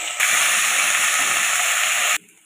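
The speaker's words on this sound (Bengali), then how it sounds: "আদা বাটাটা তেলের সাথে খুব ভালো করে ভেজে নিয়েছি।" Ginger paste sizzling hard in hot oil in a pan, a steady loud frying hiss that cuts off abruptly near the end.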